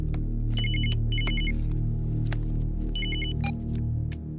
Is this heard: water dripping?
no